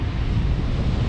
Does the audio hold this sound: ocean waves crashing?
yes